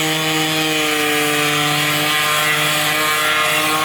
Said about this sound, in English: B is hard at work with the sander, and look how nice it's coming out as it's being sanded